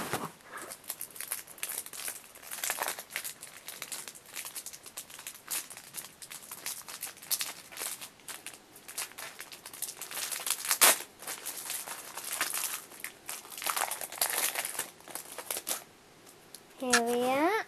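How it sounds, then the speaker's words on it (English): Moshi Monsters mash up card packs are torn open by hand, with crinkling foil wrappers and bursts of tearing close to the microphone, under occasional talk. "So firstly, I'll open the mashup cards."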